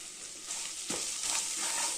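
Homemade masala powder fries in a pan over ginger-garlic paste for kuska biryani, a soft, even sizzle with a brief stirring scrape near the middle.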